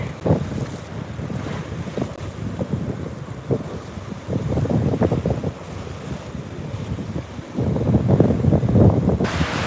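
Steady wash of ocean waves on a beach with wind buffeting the microphone, surging louder toward the end, no voices.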